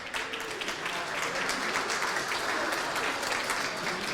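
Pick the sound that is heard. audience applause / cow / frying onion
audience applause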